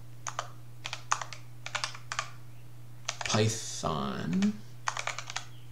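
Bursts of computer keyboard typing in short rhythmic clusters while entering terminal commands on Ubuntu 20.04, close and crisp, with a brief stretch of talk in the middle.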